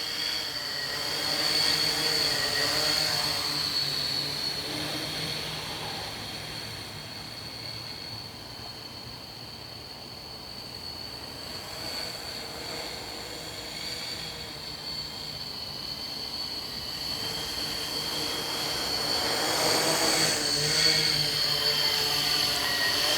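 A 13-inch drone flies steadily for the whole stretch, its broad whirring motor drone staying at a moderate distance with a high whine on top, swelling slightly near the end.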